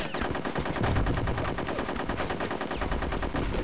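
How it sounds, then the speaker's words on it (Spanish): Rapid automatic gunfire in Conker's Bad Fur Day, a dense, continuous burst of shots holding steady and loud for the whole stretch, with no talk over it. "me voy a disparar este puto"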